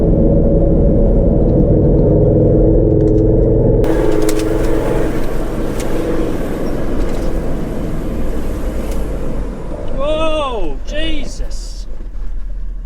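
An off-road vehicle races around a blind corner, its loud engine rumble and revving surging in suddenly and filling the scene, with voices briefly audible near the end.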